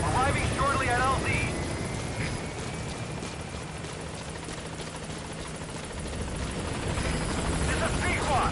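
Helicopter in the Metal Gear Solid V video game arriving at a landing zone, a steady rotor drone running throughout under radio-style voice chatter.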